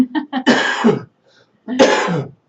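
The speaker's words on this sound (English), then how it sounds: "I'm going to cough in a minute" A person coughs up close: a quick run of short hacks, then a deep, harsh cough, a pause, and another heavy cough.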